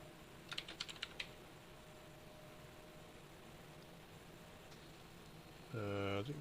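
Quick burst of computer keyboard typing, a handful of crisp clicks close up, followed by quiet and then a brief loud hum near the end.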